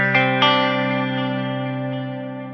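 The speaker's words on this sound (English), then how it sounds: "I've got a clean tone with a bit of delay and reverb." Clean electric guitar run through a JST ToneForge plugin with delay and reverb, two picked notes ringing out and repeating in fading echoes over a long, smooth reverb tail.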